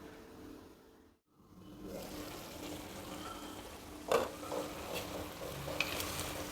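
Okra cooks covered in water in a pan, a steady soft hiss and simmer with occasional small pops and bubbling, close and continuous after a brief gap.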